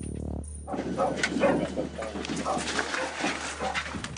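A dog outside a suspect's house during an early-morning police raid at 6 a.m. lets out a few yips and whimpers under a steady background hum, fairly close, with no talking.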